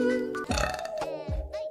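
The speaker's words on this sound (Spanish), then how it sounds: "Voy a eructar." A girl lets out a couple of loud, drawn-out burps, gurgling and low, with short bits of her speech in between.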